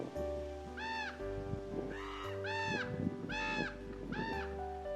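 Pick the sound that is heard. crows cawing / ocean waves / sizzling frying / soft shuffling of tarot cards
crows cawing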